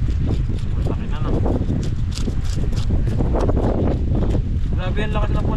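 Strong storm wind batters the microphone in a loud, continuous roar by a river, with gusty buffeting throughout while a person talks over it.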